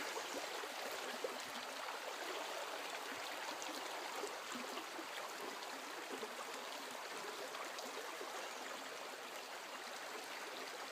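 Clear river water streams along steadily in a wooded spot, giving a soft, even rush and trickle with no voices over it.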